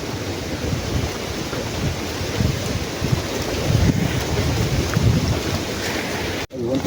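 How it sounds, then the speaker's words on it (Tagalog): Strong wind buffets the microphone in heavy, rumbling gusts while fishing at Pala Pala Dam, with water sloshing faintly beneath; no one speaks. "Malakas ang hangin"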